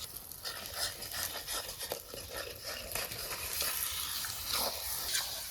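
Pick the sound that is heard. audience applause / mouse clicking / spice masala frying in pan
spice masala frying in pan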